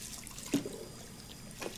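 Tap water runs into a sink during dishwashing in the video game Captain Spirit, a soft, steady trickle with a couple of brief splashy bumps.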